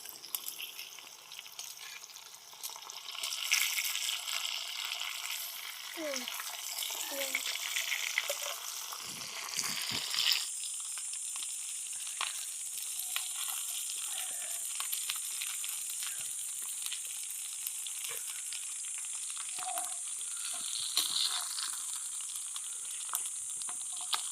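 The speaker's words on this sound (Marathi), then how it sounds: "तर एक बाजू फ्राय झाली आहे, आता परतून घेऊया." Pomfret fish frying in a pan outdoors in a forest setting, a steady bright sizzle that runs throughout, swelling and settling into an even hiss as the fish turns, with a few soft clicks and no talk.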